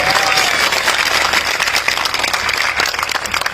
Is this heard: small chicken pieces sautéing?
no